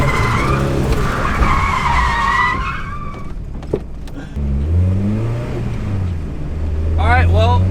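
A Nissan S13 drifts through a late-night turn, its tires squealing loudly and close for several seconds before the engine revs and pulls away.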